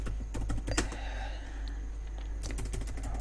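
Computer keyboard typing in a quiet room as a code comment is entered, a quick run of close, crisp key clicks that pauses midway and then resumes in a brief burst.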